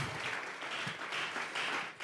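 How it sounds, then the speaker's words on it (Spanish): A church congregation claps together in a burst of applause, a dense wash of many hands with slight pulses in intensity, moderately loud and sustained for about two seconds. "Vamos a regalarle ofrenda de palmas al Dios de la gloria"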